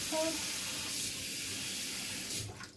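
Tap water running steadily as salad ingredients are rinsed under it in a kitchen sink, a continuous bright splash that cuts off near the end.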